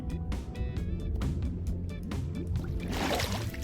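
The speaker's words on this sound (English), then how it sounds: "It's just like a bunch of waterfalls going into a hole in the ground." Waterfalls pour into a hole in the ground in Minecraft, a steady close rush and splash of water running the whole time, with sloshing bursts and a brief brighter spray near the end.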